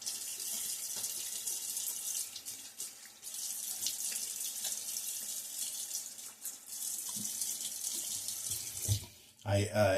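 Cool water runs steadily from a tap into a sink for rinsing during a wet shave, a continuous hiss through the clip that is broken briefly near the end by a few close knocks.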